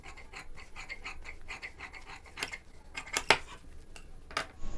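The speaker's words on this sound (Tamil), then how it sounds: "இதை அப்படியே நம்ம கட் பண்ணிடலாம் 1/4 இன்ச்சு ஷேப்பில்." Scissors snipping blouse fabric along a quarter-inch seam during high-neck collar blouse stitching, a close series of irregular crisp cuts with a few sharper snaps, no speech.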